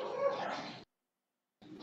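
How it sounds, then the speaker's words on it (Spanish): Several dogs bark in a muffled, faint way, in two cut-off bursts separated by a stretch of silence. "Está peleando con los perros."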